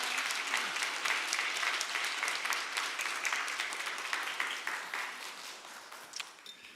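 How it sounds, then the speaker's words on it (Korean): A church congregation gives a sustained round of applause during a Korean Sunday worship service, steady dense clapping filling the room for several seconds and tapering slightly at the end. "우리 힘차게 축복의 박수 드리겠습니다."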